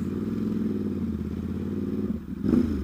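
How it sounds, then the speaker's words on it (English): A loud Ducati SuperSport S V-twin motorcycle idles with a rough, throbbing exhaust note, then briefly dips before a sharp rev swells near the end. "You are not going to sneak up on anyone with this this exhaust. It's pretty rowdy."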